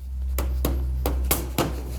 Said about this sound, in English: just kind of hammer it back into place with the rubber mallet